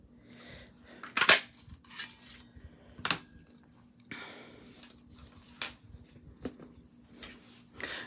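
Scissors snip through paper while a card piece is cut out, with several crisp clicks and rustles spaced irregularly, close but fairly soft and without talk.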